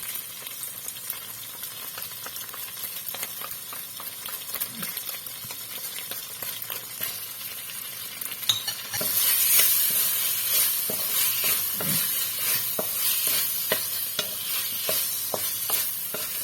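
Tofu and sugar being stir-fried in a pan, a steady sizzle with repeated spatula scrapes and stirring, growing louder and brighter partway through, with no talking.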